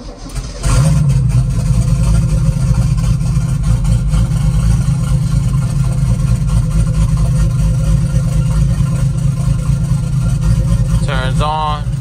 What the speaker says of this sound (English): Let me turn on the light so you guys can see how easy it cranks now.